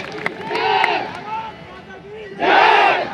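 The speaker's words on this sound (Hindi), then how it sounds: "एक बार जोरदार तालियां उनके लिए।" A crowd at a college event in India cheers loudly in two bursts, swelling near the start and rising again toward the end, with a roaring, shouting quality over background hubbub.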